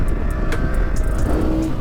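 A road-legal Honda CRF 450 supermoto ridden along the road, the engine droning loud and close with a steady low rumble and small swells in pitch, plus wind buffeting across the whole stretch.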